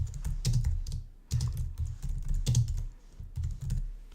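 Keys clatter on a computer keyboard in steady bursts of typing, close and clear in a quiet room with no voices.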